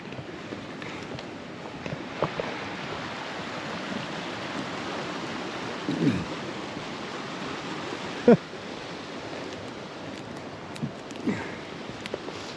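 Broadband rushing of a mountain creek flows steadily throughout while someone crosses it, with a few brief footstep-like knocks and splashes near the middle, no talking.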